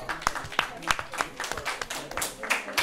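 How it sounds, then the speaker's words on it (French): Scattered, uneven clapping from an audience at a women's leadership event in Mali, with distinct individual claps popping out under a faint murmur, fairly quiet and sparse rather than a full ovation. "Applaudissez pour vous, mesdames."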